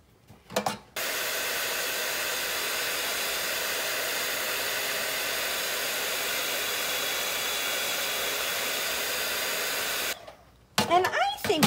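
A heat embossing tool blows hot air in a loud, steady rushing hiss that lasts about nine seconds, close up, with brief handling noises at the start and end.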